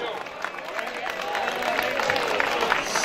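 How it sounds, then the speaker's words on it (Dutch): A crowd applauds at a herring party auction, scattered clapping and cheering that is moderately loud with voices mixed into the din. "Dit applaus is voor jou."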